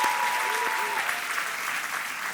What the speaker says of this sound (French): Alors on leur applaudit aussi